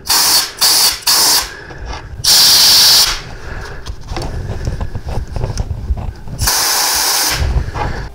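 Compressed air blasting oil out of the lifter holes on a Harley Touring engine: several loud, close hissing bursts, some short and some lasting about a second, separated by quieter gaps of workshop noise.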